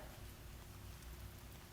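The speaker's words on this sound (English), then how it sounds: "It's raining." Steady rain hisses continuously, a dense wash of falling drops with no voices.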